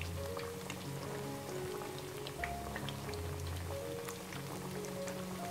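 Chicken pieces frying in oil over high heat, a dense steady crackle and spatter of sizzling with scattered pops, plus a faint low hum underneath, no talking.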